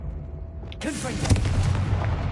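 Confringo spell explosion in Hogwarts Legacy: a sudden broadband burst lands a little under a second in, then a rumbling fiery roar with crackling follows and holds loud to the end, over low game ambience.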